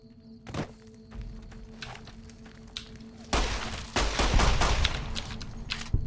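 Pistol gunfire in Fallout: New Vegas, a few sharp shots among game noise, followed by a denser burst of rapid overlapping gunfire over a low background hum.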